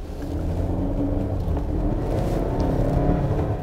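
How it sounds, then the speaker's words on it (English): A 2018 Volvo XC60 T5 with a four-cylinder turbo engine accelerates, giving a steady, moderately loud low rumble and whir throughout, with no voices. "I love the responsiveness of this turbo engine."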